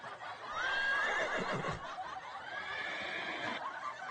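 A horse-neigh sound effect plays a single high, quavering whinny that trails into breathy snorts and chuffs. The call is fairly close and clear, then fades into quieter snuffling.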